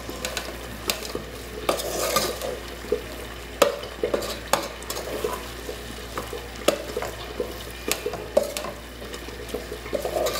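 Ground beef with chopped green onion cooking in a pan for a meat sauce, with a continuous soft sizzle and frequent scraping stirs of a utensil at irregular intervals, close and moderately loud.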